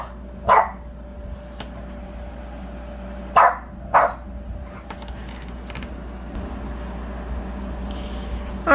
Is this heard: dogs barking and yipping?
yes